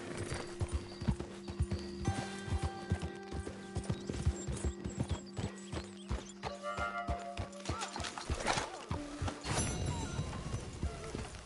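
Horses in a video game camp clop along in a steady rhythmic stream of hoofbeats, with a whinny near the end, heard moderately close with no talking.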